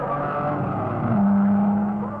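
Racing car at the 1953 Mille Miglia pulling away, a muffled engine note swelling into a rising tone then fading, heard on an old archival recording.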